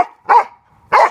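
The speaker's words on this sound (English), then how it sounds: "Crazy dog." Two sharp, loud dog barks close by, spaced about half a second apart with quiet between them, heard near a house being pressure washed.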